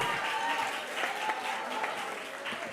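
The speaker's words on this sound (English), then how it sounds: "let's clap for them also" Audience clapping for a team at a quarter-final of a national investment quiz competition, a steady, moderately loud wash of applause lasting a few seconds with no talking over it.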